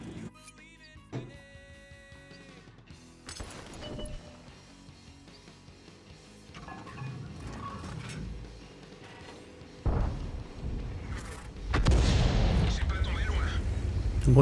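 Tank cannons fire in World of Tanks, with several booming shots and heavy blasts scattered among game sounds and a loud burst near the end, while someone talks through much of it.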